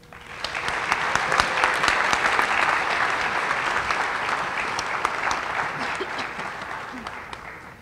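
Audience applause at a high school senior awards night, a sustained burst of clapping from a crowd in a hall that swells and then slowly fades.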